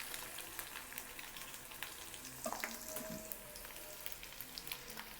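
Ginger garlic paste frying in a pan for a restaurant-style prawn fry, giving a steady soft sizzle with a few stirring scrapes partway through and a brief tonal squeak; no voices.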